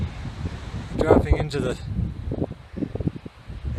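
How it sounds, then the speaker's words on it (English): Strong wind gusting over Tehachapi Mountain on a cold hike, a steady rushing roar buffeting the microphone, with someone talking briefly near the start. "Very cold and windy."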